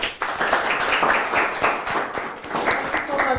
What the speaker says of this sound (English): A round of applause for Christine